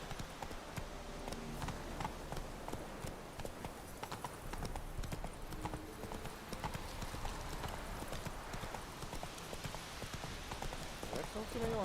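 Horse Roach's hooves in The Witcher 3 video game, rapid rhythmic clip-clop of galloping with a brief whinny-like sound, steady throughout beneath someone talking.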